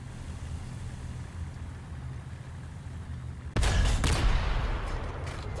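A tank cannon fires in the video game War Thunder, a single sudden heavy boom cutting in over low engine rumble, followed by a decaying roar and crackle.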